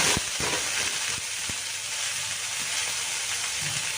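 Cumin powder fries in hot oil in a pan for a garlic- and onion-free fenugreek greens dish, giving a steady, moderate sizzle with a few small clinks and stirring scrapes near the start.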